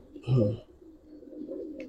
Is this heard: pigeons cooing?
yes